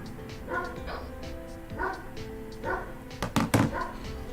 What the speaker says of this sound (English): Please don't mind the dog sound